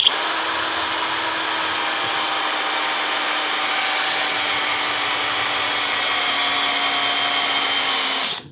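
A Hanabi LJ-2023 cordless drill drives a raw 1/4 by 100 mm screw into wood, giving a steady, loud, high-pitched motor whine held for about eight seconds before cutting off abruptly when the trigger is released.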